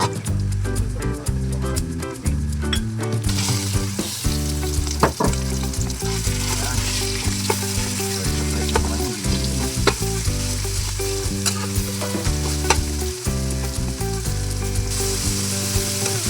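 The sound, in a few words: sautéing onion and garlic in a pan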